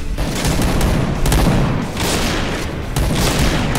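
Loud automatic gunfire from the online shooter Point Blank, a rapid, steady stream of close shots with a few heavier booms mixed in, running without a break.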